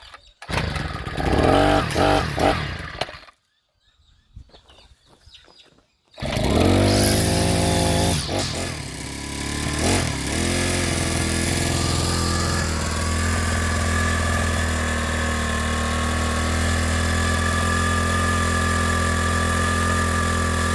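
An old four-stroke Yard King whipper snipper engine runs roughly, cuts out into near silence for a few seconds, then is pulled back to life and settles into a loud, steady buzzing run.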